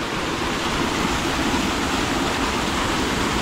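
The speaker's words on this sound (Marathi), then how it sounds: "पाणी वाह किती आहे" Water rushes loudly and steadily down a hillside stream where crabs are being caught. The sound is a dense, even roar that continues unbroken for the whole stretch, close to the microphone, with no voices.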